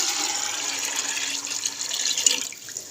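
Water poured into a pressure cooker holding soaked chickpeas, a steady hissing rush of flowing water that stays close and even, then thins near the end.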